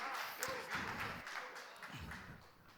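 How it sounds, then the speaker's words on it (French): A church congregation applauding medal winners, a steady patter of many hands clapping at moderate level, fairly distant, with some murmuring underneath. "on peut les applaudir"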